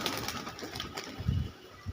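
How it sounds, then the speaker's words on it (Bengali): Andra-line pigeons kept for sale coo in low, soft bursts, the clearest one about two-thirds of the way through, amid faint background noise with no talking. "পায়রাগুলো সেল আছে"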